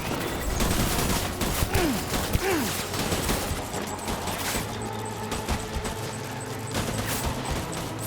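Gunfire in the video game Death Stranding, a dense rattle of rapid shots and impacts at the start that thins into scattered bangs over a continuous noisy game backdrop.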